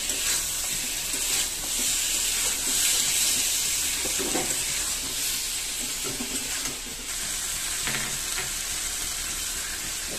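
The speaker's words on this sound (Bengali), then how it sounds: "জল দিয়ে ভালো করে কষে নেব।" Ridge gourd and tilapia curry braising in a pan, a steady broad sizzle running throughout with occasional scraping stirs, close and moderately loud, no voices.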